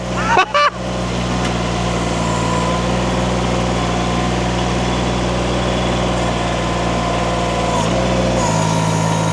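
A Derette V1000 Chinese mini skid steer runs steadily nearby, its engine holding a constant low drone with a brief clatter near the start and a slight shift in pitch toward the end.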